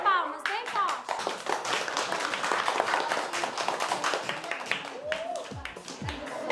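Children in a school setting clap their hands loudly and unevenly as a group, a busy patter with excited voices and shouts mixed in, easing off slightly toward the end.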